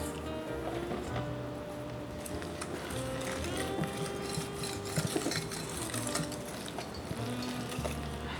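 Chocolate chip pancake batter being mixed, steady rubbing and scraping of a utensil against a bowl with occasional light knocks, close and quiet, no talking.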